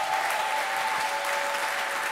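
Congregation clapping during an Easter church service, a dense continuous roll of applause filling the room at steady loudness, with a faint sustained tone underneath.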